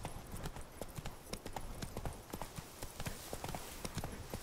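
Hooves of Roach, an armored horse in The Witcher 3, clip-clop in a steady, quick rhythm, moderately close but fairly quiet beneath a constant hiss of background noise, with no voices.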